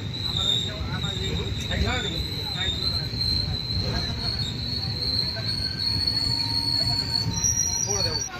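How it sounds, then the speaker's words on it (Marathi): A train at Raichur railway station, with a continuous rumble of rolling wagons and a sustained high metallic wheel squeal, plus faint voices in the background. "हे आहे रायचूर रेल्वे स्टेशन."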